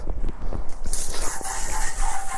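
A steady hissing spray of water from a garden hose washing a motorcycle starts partway through and keeps going, with a few scuffs and knocks at the start.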